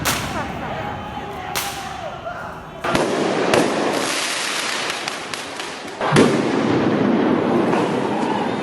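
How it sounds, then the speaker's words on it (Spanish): Fireworks launched by protesters at the federal courthouse in downtown Portland crack and thump repeatedly at an outdoor night protest, sharp loud bursts over a noisy crowd with voices. "los manifestantes lanzaron fuegos artificiales contra la Corte Federal del centro de Portland"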